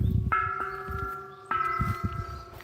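Two small temple bells struck one after another, each giving a bright ringing tone that sustains and slowly fades, with some low rumble underneath.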